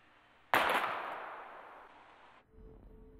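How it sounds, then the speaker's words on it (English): A single sharp pistol shot cracks out at a bottle in the video game Life Is Strange, followed by a long ringing decay lasting about two seconds before cutting off. "We're gonna shoot all these bottles without wasting a single bullet"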